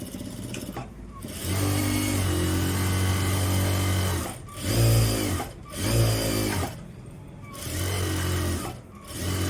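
Sewing machine stitching a pant hem in bursts: a steady mechanical whir runs for a couple of seconds, stops, then restarts in several shorter runs with brief pauses between, close and fairly loud.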